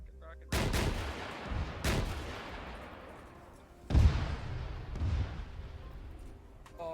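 Rocket launchers fire on a firing range in the video game Arma 3, with several sharp booming blasts at irregular intervals, each trailing off into a rumbling echo, one especially loud around the middle.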